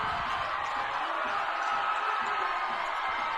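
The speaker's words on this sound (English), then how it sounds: "Crowd making more noise right now than we've heard all night long." Crowd at a high school football game between Eagle Point and Mazama, a steady broad roar of many voices heard from a distance, with no distinct cheers standing out.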